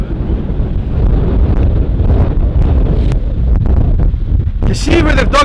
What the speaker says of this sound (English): I can't even stand up against the wind.